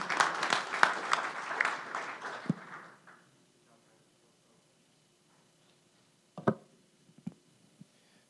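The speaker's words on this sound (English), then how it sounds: "let's give Jess a round of applause." An audience applauds for a few seconds, a dense patter of clapping that stops abruptly, followed by near silence and a few scattered claps and knocks.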